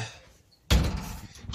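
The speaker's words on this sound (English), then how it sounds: "I'll go back and lock this bloody door" A door on a 4-bed holiday lodge is shut and locked with a single sharp thunk after a quiet moment, close by, followed by a brief rattling decay.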